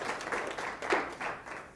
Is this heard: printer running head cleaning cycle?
no